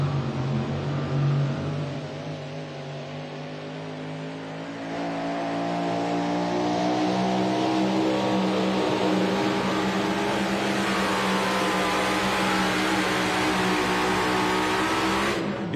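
A drag racing mini rod roars steadily down the strip, its loud engine drone holding and rising through the whole run with no voices over it.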